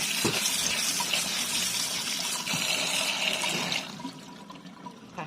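Water runs and splashes steadily as red ant eggs are washed in a sieve, a continuous close gush and trickle that eases off toward the end.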